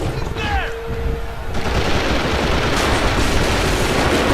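Heavy automatic gunfire in a video game starts faintly, then swells into a dense, continuous barrage of rapid shots from about a second and a half on, loud and close with no pauses.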